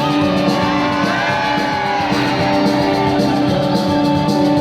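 Children and a concert crowd at a Festas da Coruña show with Modestia Aparte shout and scream together in a sustained, loud, dense roar that fills the venue.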